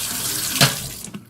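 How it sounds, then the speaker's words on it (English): Tap water runs steadily over an upside-down kitchen sieve for a moment, a close, hissing splash with a brief louder gush near the middle before it eases off. "You just turn it upside down, turn the water on"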